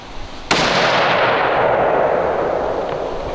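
A single sharp gunshot from a Savage hunting rifle cracks at close range outdoors, followed by a long rolling echo that fades over several seconds.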